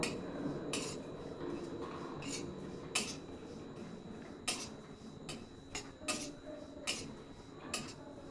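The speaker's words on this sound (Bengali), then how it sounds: "এইভাবে আমি কিন্তু মশলাটাকে ভালোভাবে একদম ভেজে নিব" Whole spices, including fennel seeds, dry-roast in a pan over low to medium flame, with a spatula tapping and scraping the metal in a slow, roughly regular series of soft clicks over a faint background hiss.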